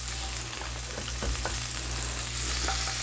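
Butter sizzles steadily in a hot pan on a tawa while a chicken pizza cheese toasted sandwich is being made. The frying hiss is close and continuous, with a few light scrapes and no talking.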